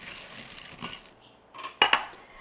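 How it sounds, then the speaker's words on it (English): Soft scraping and light clinks of a spoon stirring chocolate and peanut butter chips in a bowl, with a couple of sharper taps near the end. "I'm just going to stir it around"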